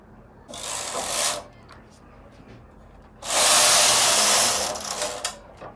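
A knitting machine carriage runs across the bed while knitting a scalloped hem, two long, loud whooshing passes separated by quieter handling sounds, close to the listener, with no talk.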